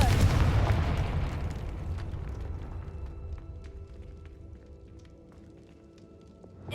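A Confringo spell in Hogwarts Legacy, a video game, erupts in a loud, booming blast at the start, then rumbles away into a long fading tail dotted with small crackles.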